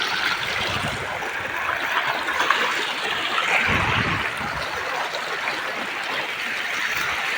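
River water runs and splashes steadily at a dam while a car is being washed, giving a continuous close rushing, trickling wash with no clear voices.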